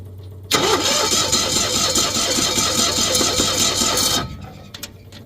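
A Cushman Truckster with a low battery cranks for about four seconds, making a loud, steady, labored whir with a quick chugging rhythm that stops abruptly. A quiet hum sounds before and after.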